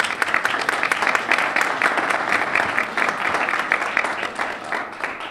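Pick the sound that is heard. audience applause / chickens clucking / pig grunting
audience applause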